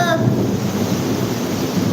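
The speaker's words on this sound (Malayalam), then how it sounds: "നല്ല പെരുമഴ ഇടി മിന്നൽ" Dense, steady roar of heavy rain fills the clip, with a low rumbling undertone like distant thunder; a voice briefly rises at the start.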